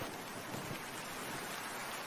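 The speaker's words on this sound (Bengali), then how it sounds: "বাবা কুনাল, বৃষ্টির জলে আর ভিজিস না" Steady cartoon rain falls as a continuous, even wash of patter filling the scene, loud and unbroken, with no voices over it.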